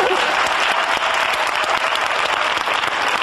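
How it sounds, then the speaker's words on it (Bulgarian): Dense, steady applause from an audience in hall 1 of a youth cultural centre in Burgas during a talent contest show, loud and close, with crowd noise mixed in. "Аплодисменти!"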